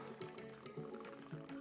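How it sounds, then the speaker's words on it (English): Nero vodka poured from the bottle into a glass for a cocktail, a steady liquid trickle with a few short gurgling surges, close and fairly quiet, with no talking. "I had to stop talking because I've got to count while I pour."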